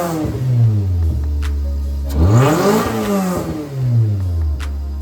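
A Toyota MR2 engine fitted with a new $40 intake revs up hard, dips, then surges again, a loud, close, rising and falling growl of acceleration with no talking.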